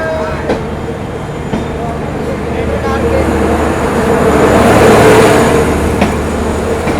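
Yuva Express, newly running with LHB coaches out of Hazrat Nizamuddin, pulls away with a steady rumble and rising clatter of wheels on rails that swells then eases, close and loud, with some voices in the background.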